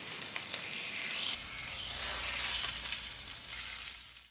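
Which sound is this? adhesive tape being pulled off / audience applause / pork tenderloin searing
pork tenderloin searing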